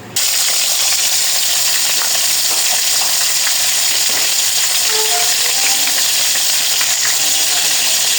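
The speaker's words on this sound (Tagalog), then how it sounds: "Samahan niyo ako magprito ngayon" Salted tilapia fries in a pan with a loud, dense, steady sizzle that carries straight through, broken only by a few faint pops and crackles.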